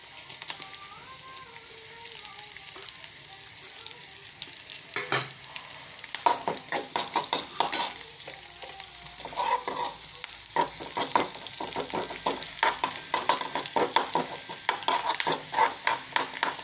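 Chilli and curry leaves frying in a pan for roasted chutney, an ongoing sizzle punctuated by rapid clinks and scrapes of a utensil stirring against the pan, growing busier toward the end, no voices.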